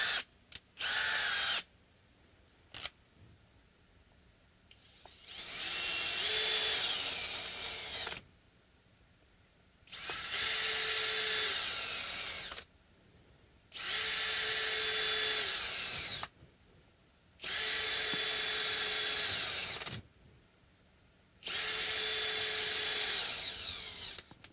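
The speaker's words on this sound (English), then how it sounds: "So I always go counterclockwise first on wood screws until it hits the internal thread." A power drill driving wood screws into a Fender Jazz Bass, in five or six loud, sustained whirring bursts of a few seconds each, separated by short pauses and a few clicks.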